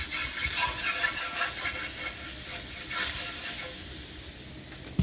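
Butter sizzles steadily on a hot griddle while blueberry pancakes are being made, a continuous close hiss and crackle with faint scrapes and clinks on top and no talking.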